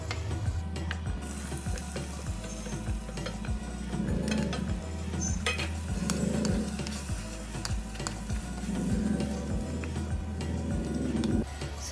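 Four finely chopped onions fry in oil in an earthenware pot over medium heat, a steady soft sizzle with faint stirring and regular low ticking clicks throughout, no talk.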